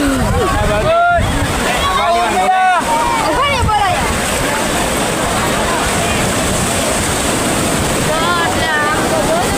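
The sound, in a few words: sea waves at Somnath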